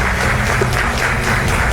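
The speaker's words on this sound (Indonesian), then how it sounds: "kita berikan tepuk tangan" Applause from a studio audience on a live political talk show, steady and loud for the whole stretch, with no voices over it.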